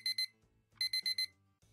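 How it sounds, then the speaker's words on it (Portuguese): Alarm clock ringing in the dating video game Date Z: two loud, bright electronic beep bursts, a short pause, then four more rapid beeps and the start of another, over a low background hum, with no talking. "Despertador que eu ganhei da mama."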